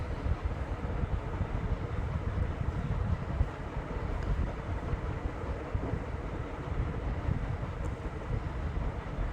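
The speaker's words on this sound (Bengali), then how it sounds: "আস্তে আস্তে লোক বোঝাই হওয়াতে নৌকা ছেড়ে দিল নবদ্বীপ ঘাট থেকে" A loaded passenger boat crossing the Ganges from Nabadwip ghat, its steady low engine rumble and water wash running continuously with wind buffeting the microphone, no voices.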